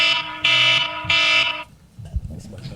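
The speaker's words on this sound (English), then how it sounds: "Sorry for that horrible timer." Loud electronic timer alarm at a committee hearing, sounding as sharp tonal beeps in two long bursts, then cutting off before faint room noise and a soft voice.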